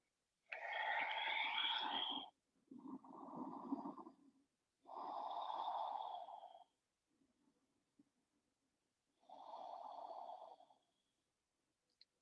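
Slow, deep yoga breaths, each long inhale or exhale a soft airy rush, four in all with short pauses between, close and alone in a quiet room.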